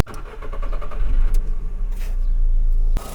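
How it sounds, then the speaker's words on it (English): VW Fox with a 1.4 naturally aspirated petrol engine starting and idling close by, a low steady engine hum with a brief rise in revs, ending with a sharp click. "It's a very silent engine and it runs very, very smooth."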